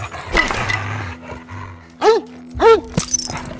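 A dog growls and snarls in the video game As Dusk Falls, two loud rising-falling bursts following rustling sounds and a man's exclamations.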